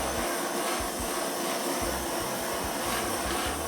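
A torch burning the edge of wooden box crates gives a loud, steady, rushing roar close by, with low fluttering pulses under the blast of the flame.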